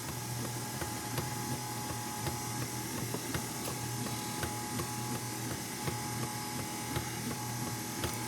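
An electric mixer blends cheesecake batter with sour cream, running as a steady, loud mechanical whir with faint rattling ticks throughout.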